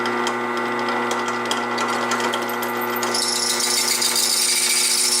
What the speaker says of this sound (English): that is the chattering you hear. It's actually cutting a little piece of steel now before it goes in the wood.